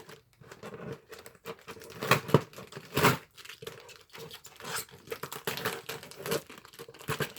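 Plastic toy packaging for a G.I. Joe Night Ranger quad is pulled apart, ties and tape stripped off in bursts of crinkling, tearing and snapping, close and irregular with brief quiet gaps.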